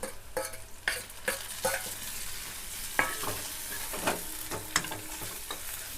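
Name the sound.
tomatoes and coriander stirred and frying in pan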